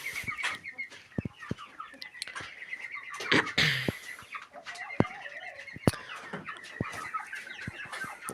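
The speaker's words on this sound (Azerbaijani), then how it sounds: "onun yanında var qırmızı xoruz" A red rooster and hens cluck steadily in a farmyard, with sharp calls and soft clucking scattered throughout at moderate distance and low overall level.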